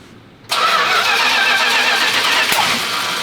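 An old car engine cranks and catches abruptly, then runs loud and rough at a steady idle, close by.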